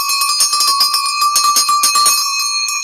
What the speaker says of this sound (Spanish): ¿dónde está mi campana?